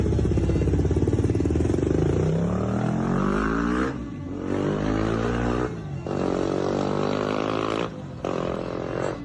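Motorcycle engine revving hard in repeated bursts, each rising pull separated by short drops, loud and close with a gruff, roaring tone and no talk over it.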